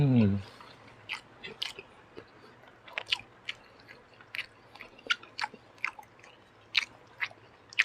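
Stir-fried crispy pork with holy basil is chewed close to the mic in a string of sharp, crunchy bites spread irregularly over several seconds, with quiet background ambience.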